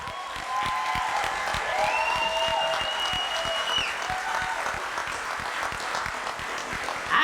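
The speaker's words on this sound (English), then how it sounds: "can we get a round of applause for our candidates?" An audience at a community event applauds the candidates, a sustained burst of many hands clapping with some crowd cheering and whistles, steady and fairly loud from start to finish.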